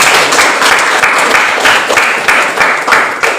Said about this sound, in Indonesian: Buat aplaus, Bang.